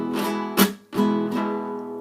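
Acoustic guitar strumming a huapango rhythm, a few sustained chords broken by sharp percussive strokes, close and clear with no voices.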